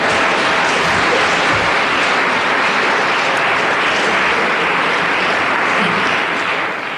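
Sustained applause from an audience after a poetry reading fills the room: dense, steady clapping that runs loud throughout and eases off slightly at the very end.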